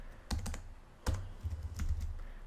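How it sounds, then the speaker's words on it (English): Someone types prompts on a computer keyboard in short bursts of clicking keystrokes, close and distinct, with brief pauses between the clusters. "you can see that just kind of typing in some prompts"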